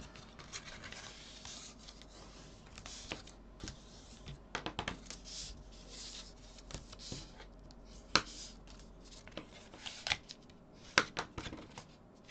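Paper being creased by hand to mark folds for a scrapbooking storage box, a series of soft rubs and sharp little taps and crinkles, close and quiet with no talking.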